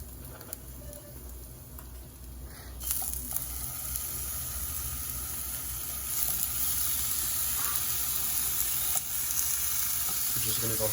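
Halved vegan sausages sizzle in a frying pan, the crackling hiss starting quieter and then swelling louder and more even once they hit the heat, heard close with no talking.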